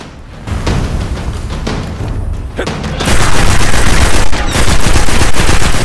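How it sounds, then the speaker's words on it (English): Rapid automatic gunfire rattles continuously in the video game Destiny as enemies shoot at a fallen player's corpse, loud and dense, growing heavier halfway through. "And they're shooting my corpse."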